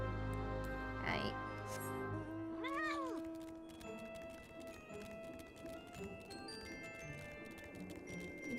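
A cat in Final Fantasy XIV meows a couple of times, short rising-falling cries close up over a bed of steady game ambience and light footstep-like clatter.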